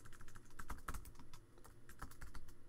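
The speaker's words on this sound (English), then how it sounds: "Actually, I will type something." Steady typing on a computer keyboard, a run of close, crisp key clicks in an uneven rhythm with a brief pause in the middle and no talking.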